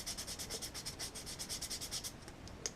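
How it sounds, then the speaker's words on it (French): Moped brake drum linings being sanded with 240-grit sandpaper, a close, steady back-and-forth rasping in quick regular strokes, about a dozen passes, with no voices. "Avec n'importe quel papier à poncer"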